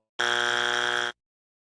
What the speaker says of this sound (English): That's an automatic buzzer